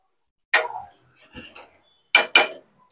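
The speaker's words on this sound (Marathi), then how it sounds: "एकदा हलवून घ्यायचं चांगलं" A spoon scrapes and clinks against a metal cooking pot while prawn curry with raw mango is stirred, a few separate sharp knocks and taps with quiet gaps between them.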